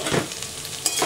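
Onions and dried red chillies sizzle in hot oil in a pan while a spoon stirs them, giving a close, steady frying hiss with two brief scraping strokes, and no voices.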